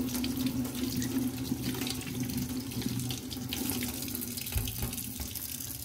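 Tap water runs steadily into a sink while vegetables are washed, a continuous, close splashing stream with small changes in tone as the flow hits the produce; no voices.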